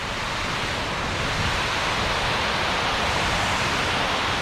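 Water pours steadily over Icehouse Dam in Mill Creek Park, Youngstown, Ohio, flowing strongly as a loud, dense, unbroken roar close by.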